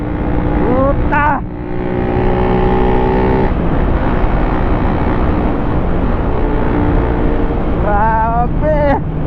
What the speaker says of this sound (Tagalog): Magpapamura ka talaga sa lakas ng Kawasaki Ninja 1000cc.